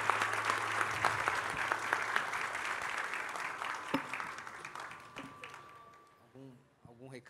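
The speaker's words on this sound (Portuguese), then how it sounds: "eu queria pedir uma salva de palmas a todos" Audience applause at a presentation, dense clapping from a room of people that carries for several seconds and then fades out, with a voice speaking briefly near the end.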